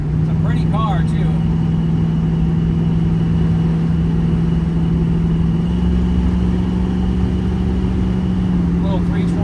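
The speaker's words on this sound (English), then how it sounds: "Little 327 just runs like a top" A 1968 Chevrolet Camaro's 327 V8 runs steadily while driving, a loud, even low drone heard from inside the car with small shifts in pitch, and voices briefly speak over it at the start and end.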